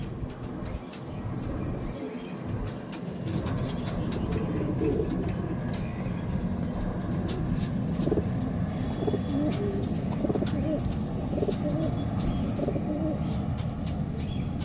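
Long-feathered pigeons coo at a breeder's loft, a low continuous murmur running steadily throughout alongside background clatter and a faint voice now and then.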